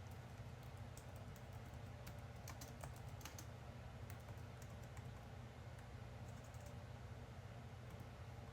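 Fingers type on a computer keyboard, giving light, irregular clicking keystrokes, clustered in short bursts and then sparse, fairly faint over a constant low room hum.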